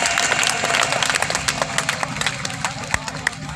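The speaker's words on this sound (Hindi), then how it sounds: "जोरदार तालियां" An audience claps at an evening bhajan gathering honoring cows, steady scattered applause at moderate distance with some louder individual claps and a low background hum.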